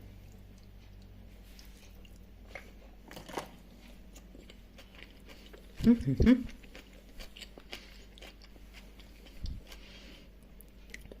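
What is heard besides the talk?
eating crunchy egg salad with dill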